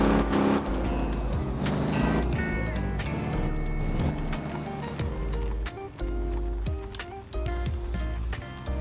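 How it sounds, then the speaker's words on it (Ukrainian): A car engine idles and revs as a vehicle is parked in the driving game Motor Town. The motor drones steadily and loudly for several seconds, with shifting tonal hums and occasional dips, and no voices. "Давайте якось красиво запаркуємося."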